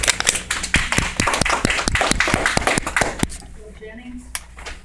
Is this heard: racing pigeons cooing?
no